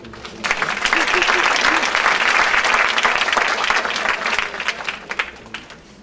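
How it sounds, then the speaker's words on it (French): An audience at a French-language conference applauds to welcome a speaker to the stage, the clapping swelling quickly to a full, sustained roar and then thinning into scattered claps near the end. "On peut l'applaudir."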